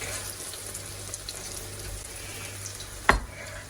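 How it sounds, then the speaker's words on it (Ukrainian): Chicken steaks, cut large, fry in a pan with a steady low sizzle throughout, broken near the end by one sharp clatter. "Зараз обсмажуємо з двох боків до готовності"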